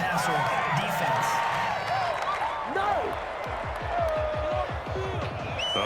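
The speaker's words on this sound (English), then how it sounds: "this crowd does not like that call" Super Bowl 55 stadium crowd, Chiefs versus Buccaneers, roaring and booing in a steady, dense wash after a roughing-the-passer penalty, with a commentator talking over the noise.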